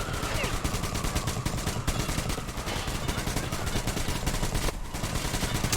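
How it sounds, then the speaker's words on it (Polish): Rapid, sustained gunfire in Metro Exodus with dense bursts of shots, loud and continuous, with voices faintly mixed in. "Którzy nas ostrzeliwują po bokach."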